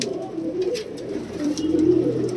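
Desi Punjabi pigeons kept as a pair coo in soft, low, rolling phrases close by, repeating steadily over a quiet background.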